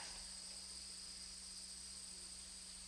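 Crickets keep up a faint, steady high chirring in the background, alongside a low hum in a quiet room with cool air and wooden boards.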